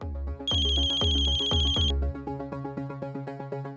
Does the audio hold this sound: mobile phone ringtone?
yes